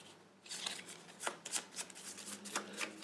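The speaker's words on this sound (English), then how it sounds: "Alright, so we shuffle these up." A deck of action cards for a croupier-style board game is shuffled close up, a series of crisp riffling bursts in an uneven rhythm, with no talking.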